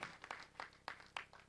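Scattered hand clapping from an audience at a national conference in Tanzania, faint and sparse, a handful of distinct claps spread across a brief moment.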